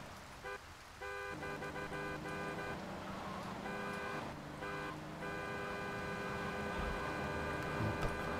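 A car horn honking inside the game GTA III, a steady electronic toot heard over game music and ambient city hum.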